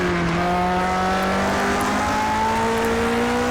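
A 1967 Lotus 49 racing car in Project CARS 2 on the Nordschleife, engine note sweeping steadily downward under hard braking, loud and continuous with faint tire noise.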